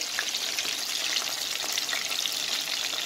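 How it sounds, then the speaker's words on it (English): Steady, dense sizzling of fish frying in hot oil, continuous crackle and spatter up close with no talking. "now I'm frying other side"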